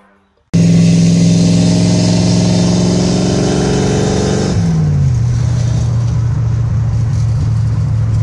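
A 1966 Ford Mustang engine starts abruptly and revs loud and close, holding a high steady rev before dropping to a lower, rougher idle.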